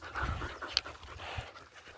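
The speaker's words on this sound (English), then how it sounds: "are you a good dog too?" A dog on a hike pants close by in quick, soft breathy bursts, with a brief sharp click partway through and faint background rustle.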